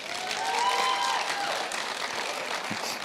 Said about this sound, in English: I feel like you're clapping for me.